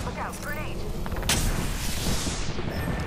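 A grenade blast in the battle royale shooter Apex Legends, a loud boom bursting mid-clip and rumbling out, following brief gunfire and a voice talking.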